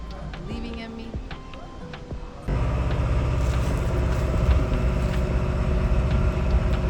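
A vehicle rumbles up close, its engine noise jumping louder partway through and holding steady, with some voices in the background.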